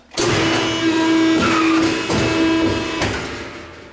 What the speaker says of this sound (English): Makes a nice smooth cut on the paper because it does have a sharp blade in there